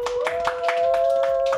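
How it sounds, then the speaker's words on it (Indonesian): A person on a talk show claps their hands in a quick, even rhythm, about four claps a second, close and crisp over a sustained steady tone in the background. "Emang dia kenapa dia tepuk tangan sih?"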